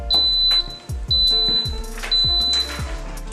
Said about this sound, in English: that beeping sound there letting us know that